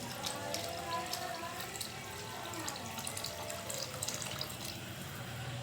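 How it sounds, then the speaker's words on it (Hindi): Water pours into a cooking pot of mixed dal, a continuous faint splashing and trickling stream at close range with no talk over it. "मिक्स करके इसमें 3 गिलास, तकरीबन 3 गिलास पानी डालेंगे।"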